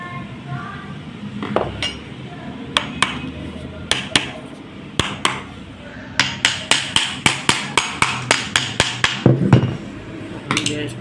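Hammer blows on metal parts of a washing machine motor under repair: scattered knocks at first, then a rapid run of sharp, ringing metallic strikes, close and loud over faint background noise.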